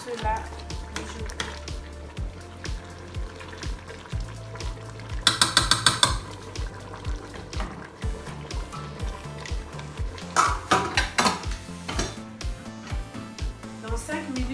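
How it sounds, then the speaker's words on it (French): A spoon stirs a simmering stew in a pot with repeated scraping clinks and knocks, a burst of bubbling sizzle partway through, while a person talks over the kitchen sounds. "je vais remuer et laisser les 5 dernières minutes tout cela mijoter"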